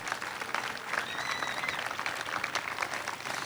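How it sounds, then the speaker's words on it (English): Audience at a Torrance centennial civic event, with parade and time capsule dedication, gives volunteers a steady round of applause, a dense wash of many hands clapping continuously with a faint crowd murmur underneath. "So you all need another round of applause for being volunteers."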